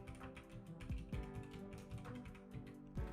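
Keystrokes on a computer keyboard while writing Unity code, a steady run of light clicks and taps with a few louder strikes, close and alone.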